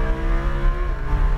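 Race car under full throttle on a driving course, its engine a close, loud revving roar with rising harmonic tones, surging briefly and unevenly, with no speech.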